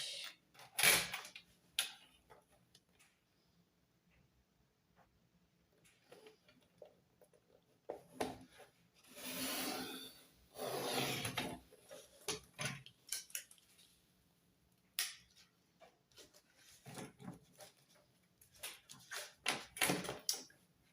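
Scissors snip through material while a budget cash-stuffing holder is made, giving scattered crisp cuts and rustles in bursts with quiet gaps between, close and fairly soft.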